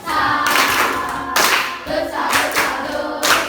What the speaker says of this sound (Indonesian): Mari tepuk salut.